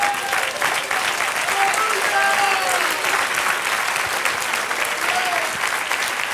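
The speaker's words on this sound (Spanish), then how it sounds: "Dale aplauso al Señor." Church congregation applauding in worship, loud continuous clapping filling the room with a few voices calling out over it.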